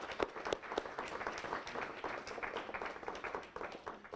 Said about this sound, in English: A round of applause for those sponsors as well.